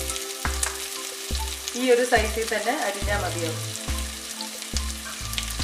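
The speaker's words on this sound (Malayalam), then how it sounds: "ഇപ്പം ഞാൻ 2 സവോള അരിഞ്ഞത് ഞാൻ ഇതിലേക്ക് ആഡ് ചെയ്യുകയാണ്" Two chopped onions sizzle and crackle in hot oil for a Kerala-style kadala curry made without coconut, with stirring sounds now and then. The frying is close and steady, and a person talks over it.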